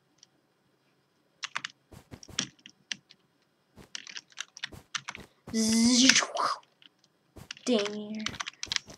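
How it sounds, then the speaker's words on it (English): Computer keyboard typing during Minecraft play: bursts of sharp clicking keystrokes come in irregular clusters, close and fairly loud, with someone speaking briefly between and over them. "those of you that say I slam my keys, I don't"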